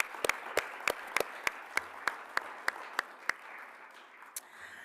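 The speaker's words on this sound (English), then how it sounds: "So a round of applause for students just pushing through." Light, sparse applause for students at an honors awards ceremony, a few distinct claps spaced out in a fairly quiet room, fading toward the end.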